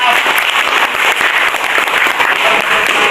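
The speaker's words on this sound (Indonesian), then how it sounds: "Mari kita beri aplaus bagi" A large audience at a PMKRI Bogor branch new-member orientation event bursts into dense, loud, sustained applause that fills the whole stretch evenly, with crowd noise blended in.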